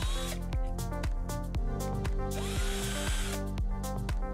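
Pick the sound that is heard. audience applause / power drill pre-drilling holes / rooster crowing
power drill pre-drilling holes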